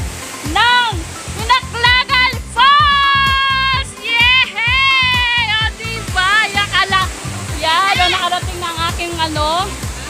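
A waterfall and river in a rural barangay give a steady rushing wash beneath a person talking loudly and continuously throughout.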